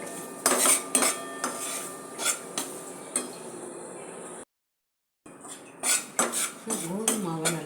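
Wheat flour being dry-roasted and stirred in a pan for a healthy vegetable halva, with repeated scraping and clinking of a utensil against the pan in short bursts, broken by a brief silent gap.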